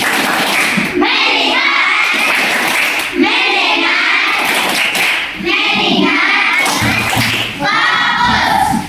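Children clapping in unison in a classroom, a series of patterned group claps in short bursts, loud and close, with young voices calling out between the rounds.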